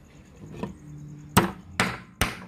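A hammer drives a nail into oiled wood with three sharp, loud, close strikes spaced about half a second apart, after softer tapping and a faint hum.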